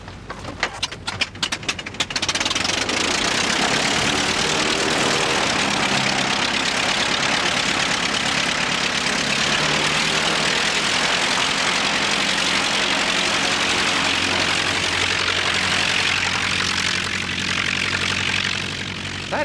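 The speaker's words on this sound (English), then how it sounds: "That engine's running a bit rough, isn't it?" Biplane engine with a propeller coughing into life in a few uneven bursts, then roaring on steadily and loudly with a rough, uneven note throughout.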